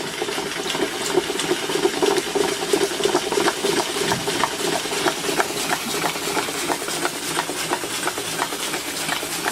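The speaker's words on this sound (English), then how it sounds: "it's chucking out a lot of water" A small steam boiler engine chugs in a fast, even rhythm while a continuous hiss and spray of water runs underneath.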